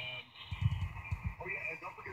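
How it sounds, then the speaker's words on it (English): AM radio reception of a spoken broadcast, with a steady, high-pitched static hiss running continuously over the muffled voice. "if you listen to this, you can hear that high frequency static"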